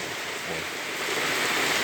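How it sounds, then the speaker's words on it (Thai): Steady broadband hiss of rain, with a windy rushing wash underneath, continuous and fairly close, no voices. "ฟังเสียงฝนเสียงลมครับ"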